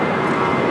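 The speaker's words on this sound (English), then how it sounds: "Great Air Cargo, 777 freighter, turning left on the Alpha 8." Brief steady jet engine whine and rumble from a Boeing 777 freighter taxiing at LAX, moderately loud and continuous for under a second, no talking.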